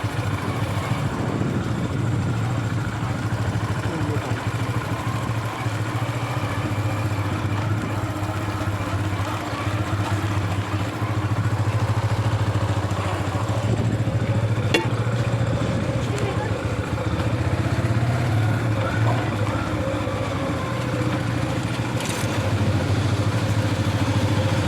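A motorcycle engine runs steadily near a cricket stadium in Sylhet, a constant low drone throughout with people talking over it.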